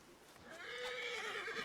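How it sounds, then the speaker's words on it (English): Horses neigh a short distance off, one whinny rising and wavering over soft hoof clip-clops, moderately quiet with no voices. "Oh yeah, those are horses over there."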